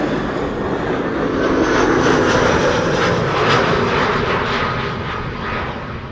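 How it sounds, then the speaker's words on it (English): Airbus A319 airliner arriving at an airport, a loud sustained jet engine roar with broadband rushing noise that swells slightly and stays steady, heard from nearby with no talk. "This is an A319 arriving from Newcastle."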